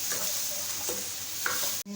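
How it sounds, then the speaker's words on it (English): Ginger and garlic sizzle steadily in hot oil in a pan while being stirred, with soft scraping scattered through the frying. The sound cuts off abruptly near the end. "Now into the oil, when it is heated, put in the ginger garlic and stir in."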